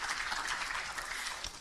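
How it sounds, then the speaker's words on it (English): Audience applause at a workshop launch in Fiji, a short steady burst of clapping at moderate distance with no talk. "let's give another round of applause, congratulating the team"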